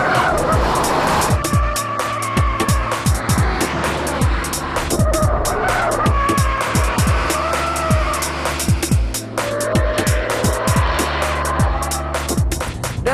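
A Subaru Impreza WRX is driven hard on a damp race circuit. Its engine note climbs repeatedly through the gears, each climb cut by a quick shift, and tire squeal and road noise run underneath.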